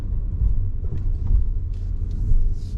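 Steady low rumble of a 2022 Subaru WRX Wagon on the move, heard from inside the cabin as a continuous engine and road drone without talk.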